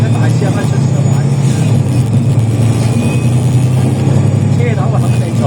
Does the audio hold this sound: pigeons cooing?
no